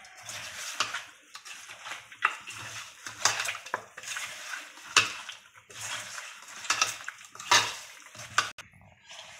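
Chicken pieces mixed with pepper by hand in a bowl for chicken kondattam make repeated soft squelches and clinks against the dish, irregular bursts close by with no talking.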